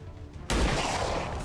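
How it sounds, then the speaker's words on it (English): A single loud, sharp sniper rifle shot from XCOM 2 Long War of the Chosen booms up abruptly after a quiet moment and leaves a long rumbling tail. "So Data, why don't you do the business here with your sniper rifle right down"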